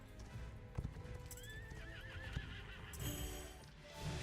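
Steady clip-clop of horse hooves with a whinny partway through, set against a busy game background of low rumble and ambient tones.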